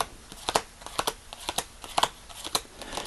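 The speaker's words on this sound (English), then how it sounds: "What I had in mind originally was to do a left-right shuffle for each of these." Playing cards are given a left-right shuffle close up, with a run of crisp riffling snaps and slaps in an irregular rhythm, fairly quiet and with no talk.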